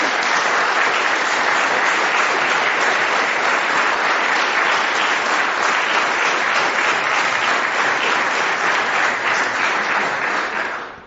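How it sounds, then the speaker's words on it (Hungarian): Audience applause at a Hungarian stand-up comedy show, a dense, loud, continuous clapping roar held evenly for about eleven seconds before tapering off at the very end. "megérdemelnek egy tapsot most is mindjárt."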